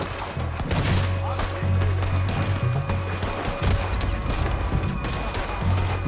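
Gunfire in Red Dead Redemption, dense repeated shots crackling through a continuous firefight with a low rumbling bed underneath, steady and close throughout.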